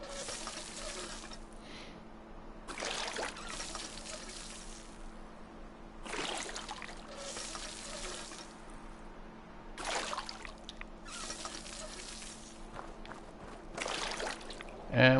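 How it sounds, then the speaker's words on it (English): Water being collected from a water source in the video game Fallout 76: quiet, repeated bursts of pouring, trickling water, each lasting a couple of seconds and separated by short pauses, with no talk. "Let's collect a little water."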